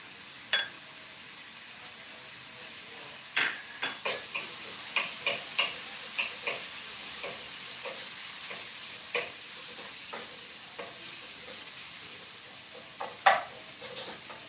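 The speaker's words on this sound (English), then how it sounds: "I'm gonna saute this down a little bit." Vegetables sautéing in a pan, a quiet steady sizzle punctuated by a series of brief spatula taps and scrapes at irregular intervals, close and fairly faint, with no talking.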